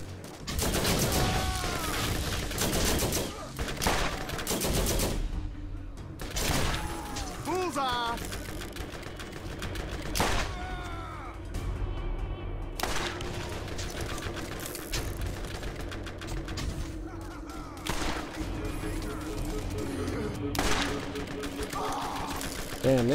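Turret gunfire in Borderlands, rapid bursts of automatic shots repeated across the scene over game sound effects, with someone talking over the action.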